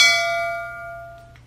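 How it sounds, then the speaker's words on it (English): A bright notification bell dings once and rings out with a clean, sustained metallic tone that fades over about a second, loud and alone. "click the subscribe button and hit the notification bell."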